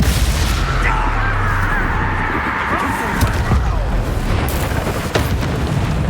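The Bombarda explosion spell from Hogwarts Legacy, heard as a loud, rumbling magical blast amid ongoing spell combat, with a sustained roaring boom and scattered crackling bursts throughout.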